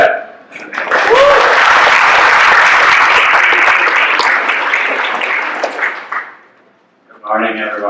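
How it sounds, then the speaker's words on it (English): Audience at a conference breaks into sustained, loud applause that fills several seconds, then tapers off before a single voice begins speaking. "round of applause for Brett."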